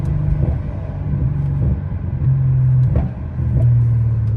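Infiniti with muffler and resonator delete, engine rumbling loudly in second gear with a steady low drone and a few brief sharp pops and crackles near the middle and end, no talking.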